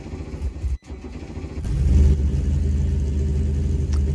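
Porsche GT3 Cup 3.8 race car engine in the Automobilista 2 sim racing game, idling in the garage with a brief cut, then a louder, steady, low rumbling drone as the engine note rises and holds.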